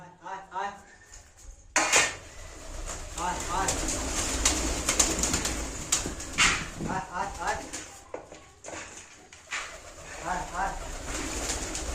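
Pigeons cooing inside a cage in a household setting, producing repeated soft coos close by. Dishes clatter and a person talks over the birds.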